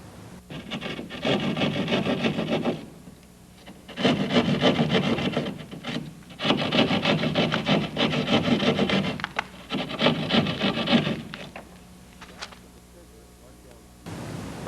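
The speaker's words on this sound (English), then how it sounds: "Cut down both sides to the mark and then across." A hand saw cuts into wood for a central vacuum installation, with long rasping strokes in several bursts separated by short pauses, close and loud.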